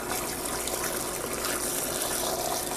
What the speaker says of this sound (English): now we're just going to pour our brine over our eggs